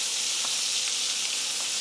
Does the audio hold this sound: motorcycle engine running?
no